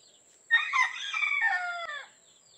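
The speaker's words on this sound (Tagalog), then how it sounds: "Ang maingay yung mga manok." A single rooster crows loudly and nearby, one drawn-out cock-a-doodle-doo lasting about a second and a half against a quiet background.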